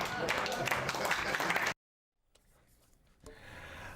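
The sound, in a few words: cabinet members clapping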